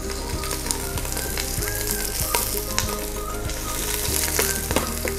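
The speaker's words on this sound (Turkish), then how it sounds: "Güzelce izleyeceğim, yani mühürleyeceğim." Beef ribs sear in a hot pan with a loud, continuous sizzle and crackle, broken by occasional clacks of a utensil moving the meat, heard close with no talking.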